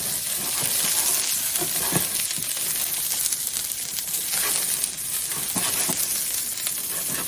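Asparagus spears frying in a pan with garlic, a steady, loud, close sizzle running throughout with a few sharper crackles and clinks scattered through it.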